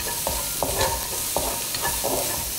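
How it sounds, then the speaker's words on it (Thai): Onion stir-fried in a pan for tuna spaghetti white sauce, a continuous bright sizzle punctuated by repeated rhythmic spatula scrapes and taps against the pan, close and steady with no speech. "เราผัดหอมใหญ่ให้สุกก่อนนะครับ"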